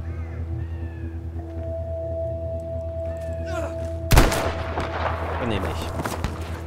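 A single loud gunshot in Battlefield V cracks sharply partway through, breaking over a steady electronic hum and scattered faint tones.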